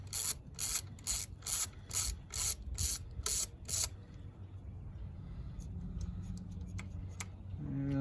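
Ratchet clicking in quick bursts as it loosens a coil pack bolt on a 2020 Jeep Compass during spark plug replacement, about eight rapid rhythmic bursts, close and clear, then quieter shop hum.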